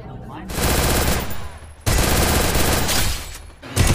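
Rapid automatic gunfire from an UMP in a Free Fire clash squad match, loud and close, in two long sustained bursts split by a short gap, with a third burst starting at the end.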